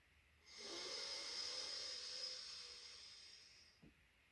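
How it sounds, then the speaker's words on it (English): A long, heavy breath drawn and released slowly during a calm breathing exercise for anxiety, a steady airy rush lasting about three seconds, close and alone, fading out before a soft click at the end. "I may actually be breathing a little bit too heavily here."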